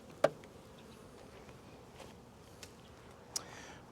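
Bees in a weak hive give a faint, steady low buzz close by, with a few brief clicks and taps from the hive and no talking.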